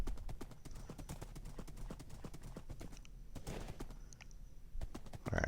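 Horse hooves clip-clopping in Minecraft Bedrock Edition, a quick, steady run of sharp game-sound hoofbeats at close range, continuing for several seconds with faint whinny-like touches and no talk over them.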